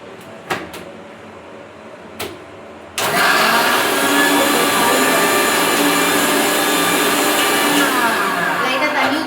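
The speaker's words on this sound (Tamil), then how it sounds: "மிக்ஸி போட போகிறேன். ஸ்டார்டிங் வந்து கொஞ்சம் சவுண்டு ஒரு மாதிரியாக வரும்" A few sharp knocks, then a motor roars to life and keeps whirring loudly and steadily, a close-up mixer grinder running.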